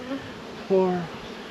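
Honey bees buzz around opened hive boxes crowded with bees, brood and swarm cells during hive splitting, a steady close drone with a brief louder swell of buzzing midway.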